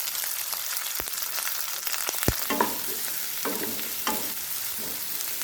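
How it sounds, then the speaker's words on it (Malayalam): Chopped onion and three green chillies fry in hot oil for a Chinese potato masala curry, a bright close sizzle with a couple of sharp utensil taps followed by repeated stirring scrapes. "അടുത്തതായിട്ട് 1 സവാള അരിഞ്ഞത് ചേർക്കുന്നുണ്ട്."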